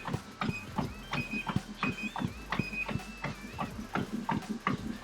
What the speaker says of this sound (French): Bien sûr, on entend les pas.